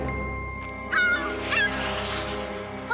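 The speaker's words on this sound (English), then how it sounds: "The seagull is back." Cartoon seagull squawks twice in short honking cries over a busy animated soundtrack with steady background music.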